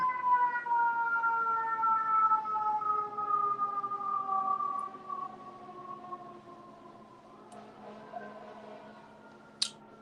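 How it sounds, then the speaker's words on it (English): A siren wails in New York in long descending tones, loud at first then fading into the distance, ending with a short sharp clatter. "Oh, sirens."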